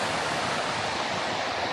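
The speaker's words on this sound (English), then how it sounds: "you can see a little bit of the falls" A waterfall at a crowded hiking spot pours in a dense, constant broadband rush, loud and close, with no voices over it.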